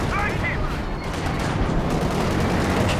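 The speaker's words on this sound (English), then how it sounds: "Drop zeroing artillery up here." A zeroing artillery barrage in Company of Heroes 2, dense rumbling explosions and distant battlefield gunfire rolling continuously in a loud, busy game mix.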